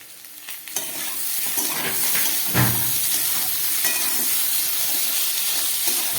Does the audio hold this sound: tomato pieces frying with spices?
yes